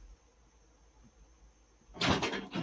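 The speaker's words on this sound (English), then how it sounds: "my wife just slammed open the door" A door bursts open with a sudden loud bang and rattle near the end, after a quiet room tone.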